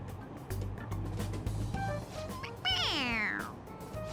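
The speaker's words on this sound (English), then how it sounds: "It meows when you press on its head." Toy cat in the video game Persona 5 Royal gives a single drawn-out electronic meow when pressed, heard clearly over a low background hum and soft game sounds.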